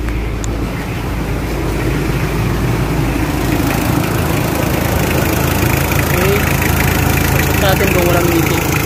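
A Mitsubishi Adventure engine idles with the air conditioning on, giving a loud, steady low rumble throughout. The engine is being checked for low power and bubbles in the fuel, and a voice talks briefly over it.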